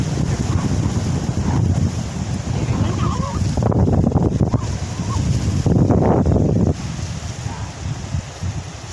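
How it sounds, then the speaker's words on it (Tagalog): Strong wind roars steadily against the microphone over a continuous wash of sea waves on a bay shore, with faint voices now and then beneath the noise. "malakas yung hangin at saka alon"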